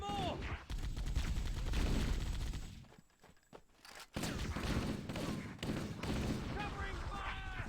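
Gunfire in the video game Halo, with rapid bursts of shots and a nearby Warthog in the fight, dipping briefly before resuming loudly, while someone talks over the action.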